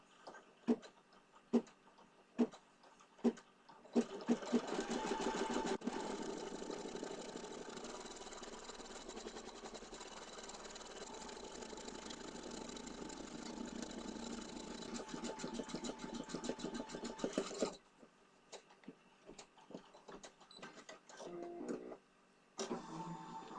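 An embroidery sewing machine stitches a design in yellow thread, a steady loud mechanical whir running for about twelve seconds after a few sharp ticks and clicks, then stopping and giving way to scattered clicks.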